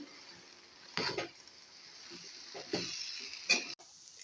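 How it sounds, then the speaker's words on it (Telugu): A spoon stirring cooked rice into tomato rice in hot oil in a pan. Faint sizzling runs underneath, with a few short scraping stirs that stand out briefly. "రైస్ యాడ్ చేసుకోవాలి రైస్ మొత్తం మిక్స్ చేయాలి"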